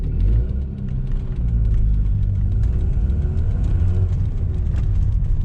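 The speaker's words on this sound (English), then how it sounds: "Engine feels healthy, minus the blowing exhaust" A 1997 Volvo 940's old engine runs steadily with a blowing exhaust, producing a loud, continuous low rumble with a rough, puffing edge heard close up and alone.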